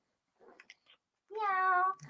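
A kitten gives a single clear, drawn-out meow up close, preceded by a few faint small clicks and rustles in an otherwise quiet room.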